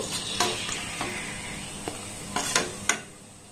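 Crisp wheat flour biscuits frying in hot oil, a steady close sizzle under a few light metal clinks and scrapes of a slotted spoon against the pan, with no talking.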